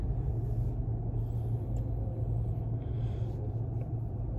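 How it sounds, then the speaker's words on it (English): A car engine rumbles low and steady in the background, a continuous faint hum with no talk over it. "you could hear like a car engine or some shit"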